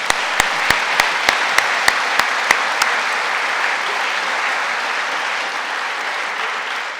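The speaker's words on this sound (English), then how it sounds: "Let's give Jim a round of applause," At a college athletic hall of fame induction ceremony, a crowd applauds the athletics director. A series of sharp, evenly spaced knocks opens it, then dense clapping builds and holds steady.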